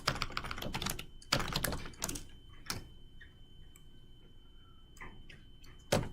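Computer keyboard typing while entering code, a few bursts of clustered keystrokes separated by quieter gaps in a quiet room, fairly close and moderately loud.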